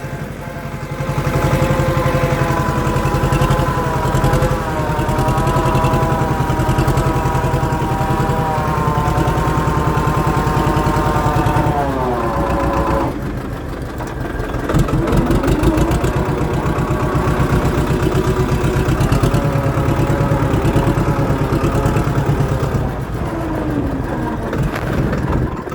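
A tractor engine runs steadily in a farm field during land levelling, with a loud, continuous rumbling drone that shifts in pitch partway through as the load changes. No one speaks.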